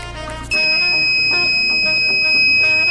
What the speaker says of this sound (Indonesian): itu tandanya buzzer berbunyi dan lampu LED-nya menyala